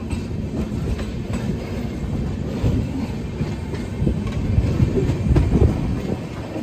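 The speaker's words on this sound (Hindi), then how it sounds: "ये सामने वाली ट्रेन है ना, ये जाने वाली है अपना प्रयागराज लखनऊ वाले रूट पे" A passenger train runs on a parallel track on the Prayagraj–Lucknow route, heard from aboard a moving express as a loud steady rumble with rhythmic clickety-clack of wheels over rail joints throughout.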